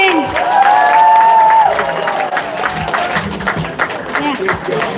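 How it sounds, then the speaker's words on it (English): An audience applauds the participants after a drama on Lord Ram's exile, steady clapping and crowd noise with a cheer, loud and close, while people talk over it. "Please give a big round of applause to all the participants."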